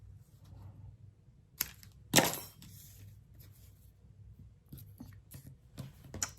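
Scissors cut a piece of red paper in half for a paper craft, making a few sharp, close snips and crisp paper crackles against a quiet room, with one louder rustle in the middle.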